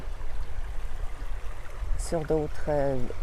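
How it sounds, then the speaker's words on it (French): A river flows in a steady, soft rushing wash throughout, with a brief bird call and someone talking briefly over it near the end. "pour que vous puissiez vraiment bien voir la rivière"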